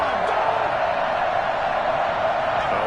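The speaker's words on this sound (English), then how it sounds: "Oh, this crowd does not like that call." A stadium crowd in the Madden 21 football video game reacts to a penalty flag, a steady loud roar of many voices with no distinct cheers standing out, sustained for a few seconds.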